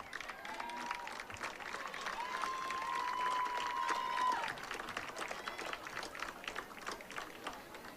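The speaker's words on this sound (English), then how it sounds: "a round of applause for Prince Cade Kuski and Princess Sarah Pet" A crowd applauds steadily at a high school football homecoming court announcement, the clapping dense and sustained for the whole stretch, swelling slightly in the middle with a brief whistle or cheer rising above it.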